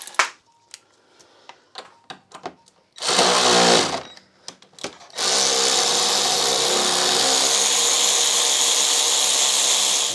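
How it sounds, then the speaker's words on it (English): Two 10mm nuts on a BMW power steering fluid reservoir loosened with a power tool: scattered clicks and light taps, then a one-second whir, more clicks, and a long continuous whirring run to the end, close and loud. "I'm just going to release the two 10mm nuts"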